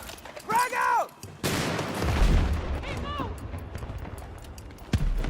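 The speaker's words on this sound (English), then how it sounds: "Frag out!" A frag grenade going off in a first-person shooter video game gives a loud boom with a rumbling decay. A voice speaks briefly before the blast and again near the end.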